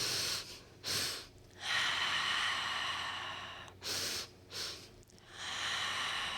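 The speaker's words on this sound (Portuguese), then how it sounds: "Puxo pelo nariz" Slow, calm breathing exercise for anxiety, drawing air in through the nose and letting it out through the mouth: several soft, close breath cycles of airy inhales and longer hissing exhales, with no talking.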